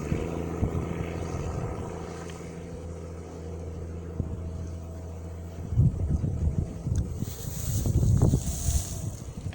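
A motorboat spins in tight circles on the water. A steady engine drone builds into rougher, louder bursts of rushing water and wind toward the end.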